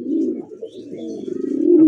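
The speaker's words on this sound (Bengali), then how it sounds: "এত সুন্দর রেড রাসগোলা ডাকতেছে নর কবুতর।" A male red-colored pigeon coos nearby in a loud, low rolling call that swells into rapid pulsing throbs toward the end, heard alone without talk.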